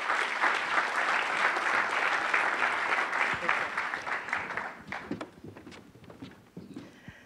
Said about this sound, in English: Please give me a big, warm round of applause for our keynote speaker.